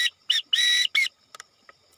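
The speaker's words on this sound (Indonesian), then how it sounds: "Di sini saya akan membunyikan alfabet dalam sandi Morse menggunakan peluit." Dash, dot, dash, dot on a handheld whistle gives the Morse letter C: four close, loud pulses in a quick irregular rhythm, then a few light clicks as it stops.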